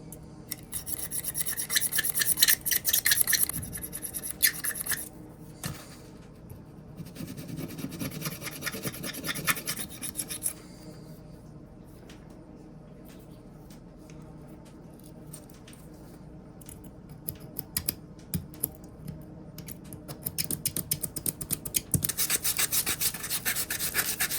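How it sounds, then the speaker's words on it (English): A small screwdriver scrapes surface rust from an old 1914 Case pocket knife in repeated close, raspy strokes, with bursts of scraping separated by brief quieter pauses. "we're going to use a little screwdriver and just scrape that surface rust down"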